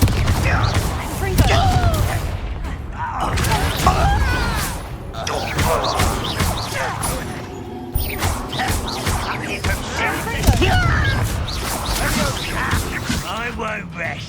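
Confringo blasting curse explosions in Hogwarts Legacy amid spell combat, with repeated crashing blasts and thuds throughout while voices talk over the fight.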